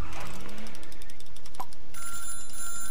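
Telephone ringing in the Little Big Workshop video game, a steady electronic ring that starts partway through, loud and close, over a dense layer of game background sound.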